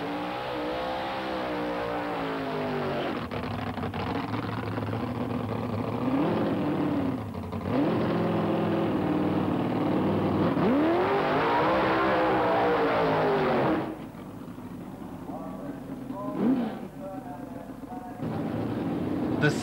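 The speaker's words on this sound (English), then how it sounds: "The sounds are absolutely ear-splitting as pair by pair the cars make their way down the strip." Drag racing cars at Santa Pod in 1986, with fiberglass replica bodies and highly tuned V8 engines, run down the strip in pairs: loud, sustained roars sweep up and fade, with a voice at times.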